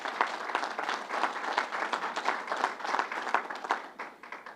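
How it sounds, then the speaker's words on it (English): Applause from an audience at a government press event, a steady patter of many hands at moderate distance that thins out toward the end. "And let's give them a round of applause."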